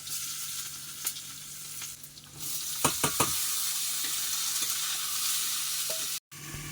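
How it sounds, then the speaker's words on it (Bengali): Potatoes frying in oil left over from frying pond fish, giving a soft continuous sizzle with a few quick stirring clicks near the middle, fairly quiet and close. "এবারে আমি রান্না করব আগে আলু ভাজাটা ভেজে নেব"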